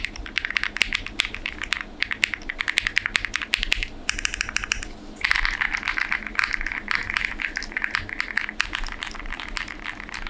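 Rapid clattering keystrokes from a KiiBOOM Phantom 98 mechanical keyboard with a clear case, steady and close, with a brief pause partway through before the typing resumes.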